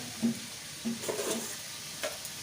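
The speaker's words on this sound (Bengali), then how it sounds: "আলুটা একটু ভাজা হবে" Potatoes fry in a pan for a drumstick-flower curry, with a soft steady sizzle and a few light stirring scrapes close by, with no talk.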